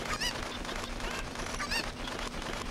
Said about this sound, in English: chickens run the opposite direction from you